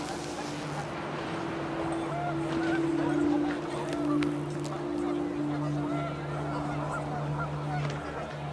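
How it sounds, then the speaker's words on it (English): In the video game What Remains of Edith Finch, panicked geese honk repeatedly over windy outdoor ambience. Several overlapping calls come in a steady stream at moderate distance. "Wind picked up, and panicked geese appeared and quickly went."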